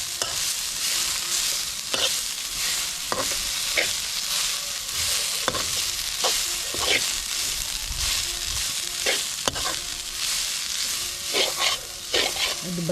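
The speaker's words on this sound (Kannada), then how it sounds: "ಅರ್ಧ ಹಿಡಿಯಷ್ಟು ಕೊತ್ತಂಬರಿ ಸೊಪ್ಪು, ಒಂದು ಸ್ವಲ್ಪ ಫ್ರೈ ಮಾಡಿ." Coriander leaves fry in a pan for mutton green masala, a steady close sizzle broken by repeated scraping stirs at irregular intervals, with no talking.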